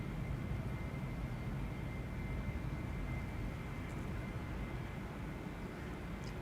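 A jet airliner takes off from the Polderbaan runway at Amsterdam Schiphol, bound for London, heard as a continuous, moderately distant engine roar with deep rumble that fades slightly toward the end.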